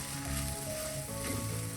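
Masala for a homestyle mackerel fish curry sizzles in hot oil in a pan, a steady bright frying hiss while it is stirred, with low tonal hum underneath throughout.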